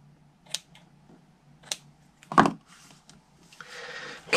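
Paper is trimmed for a Stampin' Up gift box with a few sharp, isolated snips or trimmer clicks, close and fairly quiet, followed by a brief rustling slide at the end.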